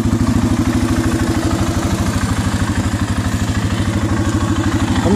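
A 2008 Arctic Cat 650 H1 4x4 ATV engine runs close by in a backyard, a loud, even, rapid thumping idle with a mechanical clatter over the full stretch, no voices.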